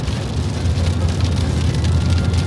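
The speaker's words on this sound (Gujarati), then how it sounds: "વરસાદ ચાલુ થઈ ગયો છે ગાઈસ," Heavy rain pours down in a dense, continuous hiss that stays close and even throughout, with no voices.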